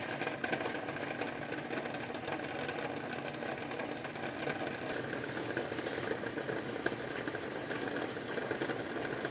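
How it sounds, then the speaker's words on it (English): Steady rolling bubbling of water at a full boil in a canning pot, continuous and even, with a low rumbling undertone and no talking. "You want it in boiling hot water for 10 to 15 minutes for a half a pint."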